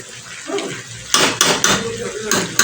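Kitchen tap turned on while cooking: gushing water splashes in bursts alongside clinks of dishes and utensils, close by, with a person talking over it.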